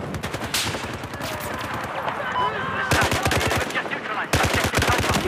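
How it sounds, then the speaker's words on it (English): Rapid automatic gunfire and single shots in Battlefield 4, dense bursts that stop and restart in waves, loud and close with a busy battle mix behind them. "He's shooting us."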